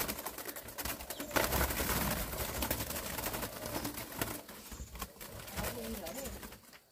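Caged spotted doves cooing at a bird-raising farm, soft repeated calls blending with clattering and rustling close by, steady and moderately loud throughout.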